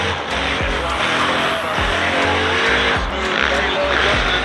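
An LS2 C6 Corvette race car drifts along a wall at a drift event, with a loud roaring engine, tire squeal and a repeating rhythm of revs as it shifts, and a voice talking faintly beneath.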